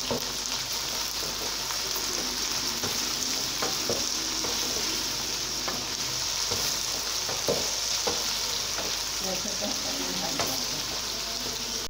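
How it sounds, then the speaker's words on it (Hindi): Okra (bhindi) with salt frying in oil, a steady close sizzle with faint crackles and pops throughout, no voices. "अब 5 मिनट और इसमें है ना फ्राई करूंगी नमक डाल के"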